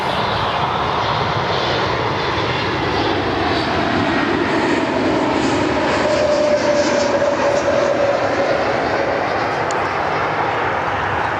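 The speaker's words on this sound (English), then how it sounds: "Oh, hey, we got an aircraft inbound." A Frontier airliner arrives at Cleveland Hopkins airport with a loud, steady, broadband jet engine roar that stays close and continuous throughout, with no talk over it.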